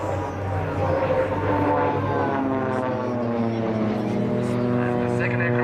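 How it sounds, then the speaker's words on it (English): A Swiss Air Force Pilatus PC-7 propeller plane drones overhead during a solo display at the Sanicole airshow, a steady engine hum under an announcer's commentary. "the second aircraft is our soloist, who is now making again a solo display"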